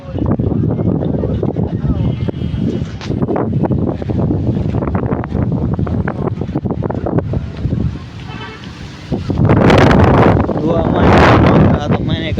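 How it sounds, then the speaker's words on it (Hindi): Strong, gusty wind sweeps through a park where trees have snapped. It roars and buffets the microphone steadily, surges harder near the end, and muffled voices sound faintly beneath it. "इतनी हवा जो थी ना तेज हवा"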